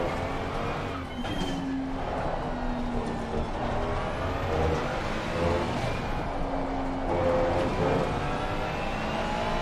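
A racing car engine in a racing video game, on a chill lap with progressive throttle, holds a steady loud drone that swells with acceleration and eases back across the clip, alone without talk.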